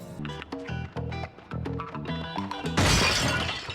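Objects smash and shatter in the PS2 video game Bully, with a loud burst of breaking glass near the end following rhythmic game music.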